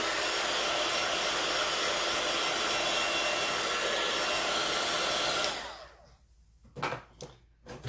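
A heat tool quick-dries ink on a stamped card, roaring as a loud, steady blowing whoosh that cuts off partway, followed by a few quiet handling rustles.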